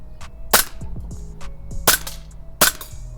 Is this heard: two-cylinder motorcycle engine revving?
no